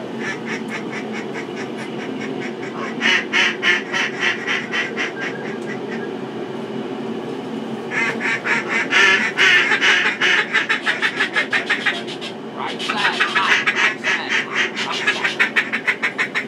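Ducks quacking in repeated bursts during a duck hunt where mallards and a black duck are being shot, loud and close with a steady background hum between volleys of calls.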